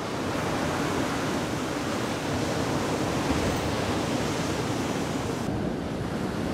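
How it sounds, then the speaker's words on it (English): Sea waves breaking at high spring tide on the shore at West Runton, Norfolk, a steady, dense roar of surf that fills the whole stretch at close range, with no voices. "just enjoy these stunning waves"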